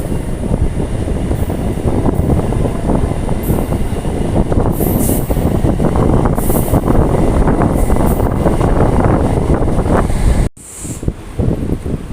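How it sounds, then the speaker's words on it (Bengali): Ahmadpur–Katwa local MEMU passenger train running, heard from inside as a loud continuous rumble and rattle of wheels on track with occasional higher squeals and a brief dip near the end. "দাসকল গ্রাম ছেড়ে আমাদের ট্রেন এই মুহূর্তে এসে পৌঁছেছে কুর্মডাঙ্গা স্টেশনে"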